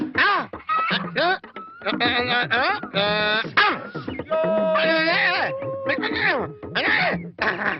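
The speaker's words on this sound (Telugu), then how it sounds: "కోళ్ళు" Chickens cluck and squawk in short bursts, mixed in with people talking loudly nearby.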